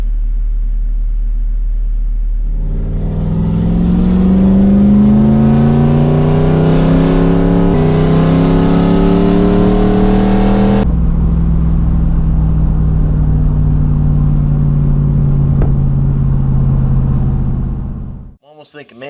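A Camaro Z28 engine runs loud and close for about sixteen seconds, building through rising revs, then settling into a steady lower drone before cutting off abruptly.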